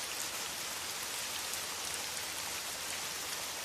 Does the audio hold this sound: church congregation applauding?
no